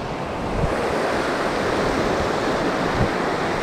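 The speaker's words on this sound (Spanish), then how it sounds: "vienen unas olas de vez en cuando que daban miedo" Sea waves break on a Sri Lankan shore used for fishing, making a steady, loud, broadband wash with wind rush and a few heavier surges, with no voices.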